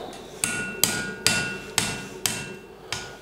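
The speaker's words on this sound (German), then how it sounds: "Jetzt wird's geschweißt." A master blacksmith hammers hot metal to forge-weld two pieces, striking six evenly spaced, ringing blows close by with short decays between them and no voices.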